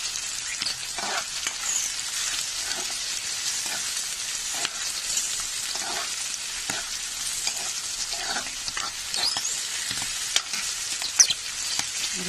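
Green peas fry for a ladies-finger and pea bhaji, a continuous soft sizzle running throughout, broken by light, irregular spatula strokes across the pan.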